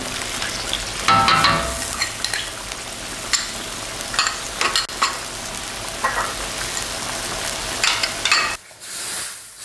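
Massaman chicken curry sauce with tamarind juice, palm sugar and fish sauce cooking in a pan, a continuous soft sizzle with scattered stirring scrapes and clicks, close and steady.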